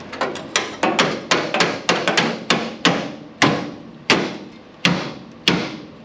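A 1929 Model AA wrecker is worked on with a makeshift hammer that bangs on metal parts, giving about fifteen sharp, ringing strikes in a steady rhythm that spaces out toward the end, close and alone.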